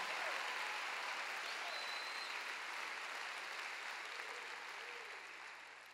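A church congregation at a healing conference claps steadily, a broad wash of many hands heard from a distance, fairly faint, tapering off slightly toward the end.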